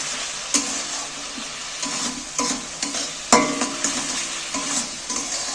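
Pre-fried moong dal and peanuts being stirred and sautéed in a pan for dal palong, a continuous close sizzle broken by repeated scraping strokes of a spatula in a steady rhythm.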